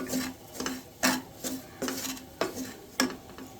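A spoon scrapes steadily around a pan, stirring semolina roasting in ghee with a soft sizzle, in regular strokes about every half second.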